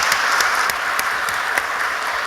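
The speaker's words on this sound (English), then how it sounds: "let's give them a round of applause" Community gathering audience clapping for a group of kids, a close, lively patter of hands with a few sharper individual claps standing out, steady throughout.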